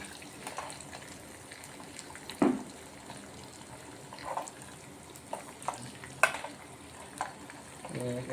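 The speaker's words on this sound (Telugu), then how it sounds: "చూసారా, మన పోపు బ్రహ్మాండంగా వస్తుంది." Tempering spices sizzle in hot oil for a tamarind-leaf and lemon rasam, a soft continuous frying crackle with scattered louder pops and stirring clinks, close and fairly quiet, with no voices.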